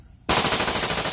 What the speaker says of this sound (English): And then let's do the full auto.